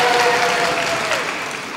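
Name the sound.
audience applause for the guest of honour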